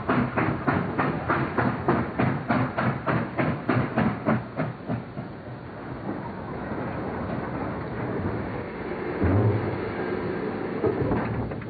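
A train on the St Petersburg to Tashkent route rolls along the rails with a steady clickety-clack that fades after a few seconds into a continuous interior rumble, no voices heard.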